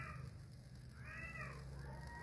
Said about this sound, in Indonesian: itu kucing lagi berantem di luar